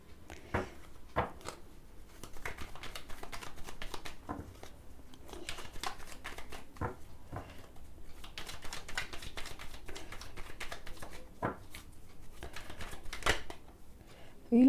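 Tarot cards are shuffled close up in a steady stream of soft riffling flicks and taps, lasting throughout with a brief louder knock at the end.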